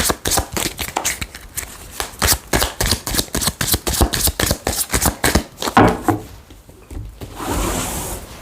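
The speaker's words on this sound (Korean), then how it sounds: "자, 한번 카드를 셔플 해보고" A deck of tarot cards is shuffled by hand: close, rhythmic riffling and slapping strokes repeat steadily for several seconds, then soften into a brief rustle.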